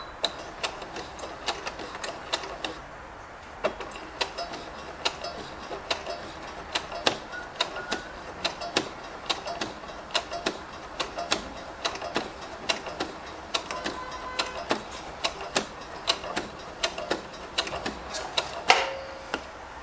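A sewing machine stitches a lined zippered pouch, running in a fast, even stream of ticking needle strokes with a few short pauses, moderately loud and close.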